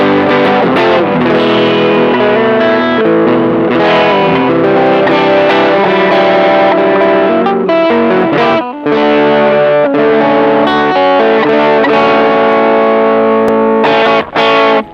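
Electric guitar chords played through a Xotic AC Booster overdrive pedal, loud and sustained, strummed in a steady sequence with ringing distorted tones and a brief pause near the middle.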